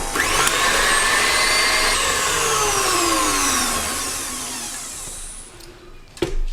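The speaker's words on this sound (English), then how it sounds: "whisk the eggs with the sugar and butter about 1 minute" An electric mixer whisking eggs with sugar and butter for a date and carrot cake batter, a loud whirring drone that slowly winds down, ending with a brief clatter.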